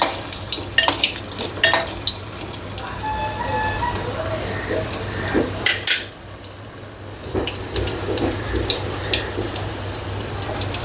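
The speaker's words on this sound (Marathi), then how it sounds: "आपण बटाट्यांना पण पाडून घेतलेत आणि तसेच आपण फ्राय करूया" Slit potatoes frying in a pan while a bombil fish biryani is cooked, a close sizzle with clinking utensil scrapes and pan knocks throughout, and a voice talking over it.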